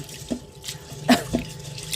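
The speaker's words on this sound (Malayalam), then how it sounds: "ഈ അരി നന്നായി നമുക്ക് കഴുകി എടുക്കാം" Ration-shop rice being washed in water in a pot, with close splashes and a few sloshing swirls over a brief moment.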